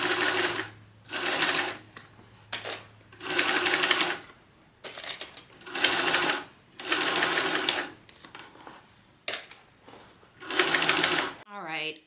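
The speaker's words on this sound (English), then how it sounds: "now we're gonna go and top stitch around the top of this at 1/4 of an inch seam allowance" A sewing machine top stitching around the upper edge of a fringed bag at a quarter-inch seam allowance, running in repeated bursts of steady whirring with short pauses between them, close and loud.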